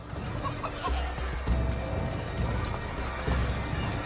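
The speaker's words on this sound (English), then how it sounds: "Chickens, animals as part of the crowd in the city is also a new feature." In Assassin's Creed 3's Boston, hooves clip-clop steadily alongside clucking chickens and an occasional whinny, set against a busy town ambience with faint crowd murmur.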